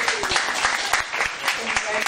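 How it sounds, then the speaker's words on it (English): Dense, steady applause from an audience at a students' union election debate, a continuous wash of many hands clapping at close range, filling the whole moment without pause. "Let's get a round of applause for our candidates."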